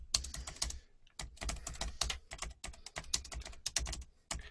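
Rapid, steady clatter of computer keyboard keys typed in quick bursts, close and fairly loud, with a few brief pauses.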